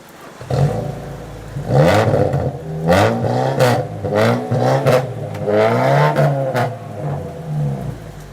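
A used car with oversized tires and aftermarket alloys idles then revs repeatedly, close and loud, with rising and falling engine pitch in several bursts.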